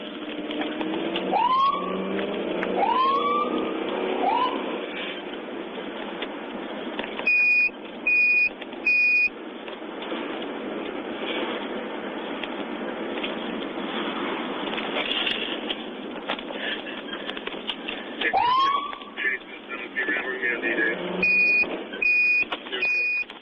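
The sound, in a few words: police car siren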